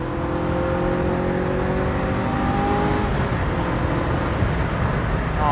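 A Ferrari F355 Spider's engine drones steadily under load, heard from inside the car with a brief rising blip as the throttle is flicked for a downshift, and no talking.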